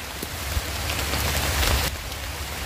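Rain falling steadily outdoors, a dense hiss of drops that thickens for a moment before easing back, alone with no voices.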